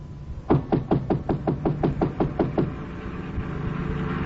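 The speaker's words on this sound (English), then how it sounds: "I knocked on the door." Knocking on a door as a radio drama sound effect, about a dozen evenly spaced, firm knocks in a quick steady rhythm, close and clear, followed by quiet room tone.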